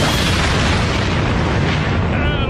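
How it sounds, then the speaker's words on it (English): A cartoon bomb blows up in one loud, sustained blast, a dense roar that rumbles and fades slowly across the whole moment with no pause. "Shoot at the bomb. Blow it up."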